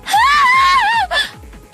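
A loud, drawn-out scream of horror from a character in the Umineko video game, wavering in pitch for about a second, then a short second cry over a rhythmic low background.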